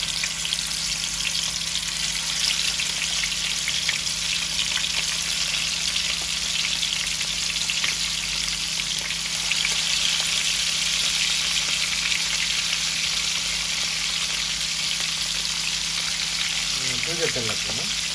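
Chicken frying in hot oil on a stove gives a steady, dense sizzle throughout, with faint background voices and a low hum underneath.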